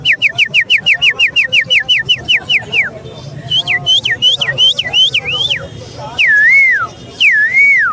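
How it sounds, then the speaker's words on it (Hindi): At a Sunday bird market in Lalukhet, a man whistles loudly and close by, first in a fast run of sharp falling chirps, then in longer swooping, warbling phrases, with faint market noise beneath. "अब ज़रा आप सीटी बजा के दिखाएं।"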